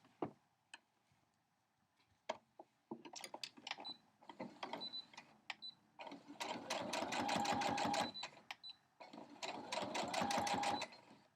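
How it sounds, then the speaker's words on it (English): A sewing machine stitches vinyl and non-cotton fabric pieces onto a fusible foundation for a crumb quilt block, running in short bursts that build into long, loud, rapid needle strokes, with brief pauses and faint handling clicks between. "And then I'm going to sew these together."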